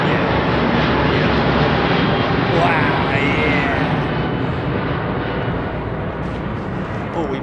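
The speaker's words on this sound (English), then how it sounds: "we might have another Virgin jet in the pink sky" A Virgin jet airliner departs from London Heathrow and passes overhead, its engines roaring loud and steady as a broad, continuous rumble, with people talking faintly underneath.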